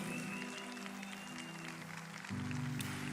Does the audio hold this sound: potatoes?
no